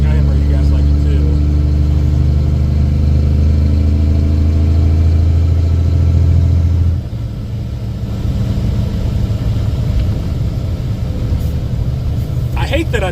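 A gravel hauling truck's engine runs close and loud, a deep steady idle for several seconds that then drops to a rougher, lower rumble, with someone talking over it.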